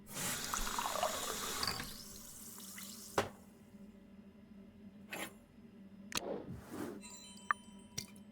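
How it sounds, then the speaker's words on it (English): Water from a kitchen tap running into a glass in a video game, with a splashing fill for a few seconds followed by scattered drips and small clinks. "Now to fill it up with water and drop one of the tablets."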